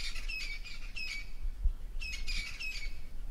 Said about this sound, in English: Other birds are busy. Gray hornbill, yellow-billed hornbill.